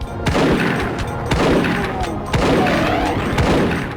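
Pistol and shotgun fire from the Doom WAD Equinox sound as a run of loud, punchy shots, about four heavy blasts spaced roughly a second apart, each with a booming tail.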